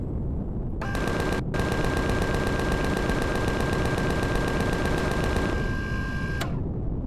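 Rapid automatic cannon fire from a combat fighter in the space game Empyrion Reforged Eden 2, a loud steady stream of evenly spaced shots lasting several seconds with a brief break near the start, no talking.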